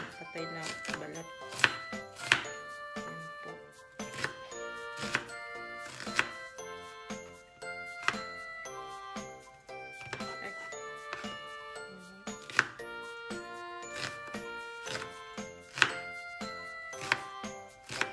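Knife chopping ginger and onion on a cutting board, sharp rhythmic taps with clinking accents, steady and fairly close, with music or tonal ringing running underneath throughout.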